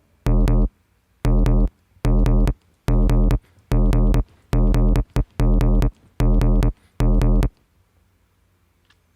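A short synthetic sample looped in sustain mode in an Ableton sampler repeats as nine even, punchy bursts separated by brief silences, loud and dry with a sharp click at each start.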